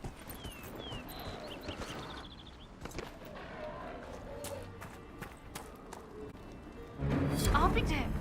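Horse hooves clip-clop at a gallop in the Xbox One game Dragon Age Inquisition, a quiet run of steady thuds under game music and a spoken voice, ending in a louder rush of noise.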